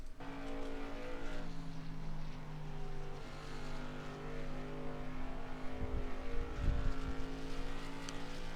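An SK Open Series race car lapping Five Flags in a racing video game: a faint, steady engine drone with a sustained tone, rising into a brief louder rumble near the end.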